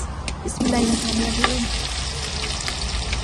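Onions and chili frying in a pan, a loud, close hiss and crackle of hot oil from start to finish with a few light scrapes of stirring.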